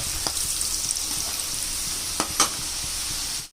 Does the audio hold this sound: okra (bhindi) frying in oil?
yes